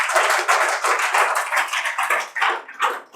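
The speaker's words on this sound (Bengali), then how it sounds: "জোরে হাততালি।" A crowd gathered to welcome a guest breaks into loud, fast applause, many hands clapping together in a bright, dense rattle that rises and falls in waves before tapering off near the end.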